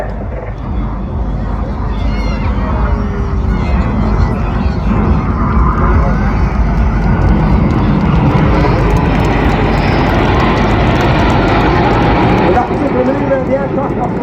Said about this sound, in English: The aircraft are flying with the air brake out.